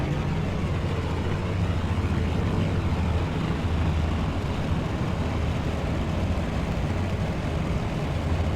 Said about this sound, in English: We're now taxiing back to the terminal.